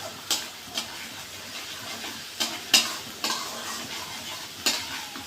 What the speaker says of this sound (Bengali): দেখুন আমার মশলাটা প্রায় কষে এসেছে।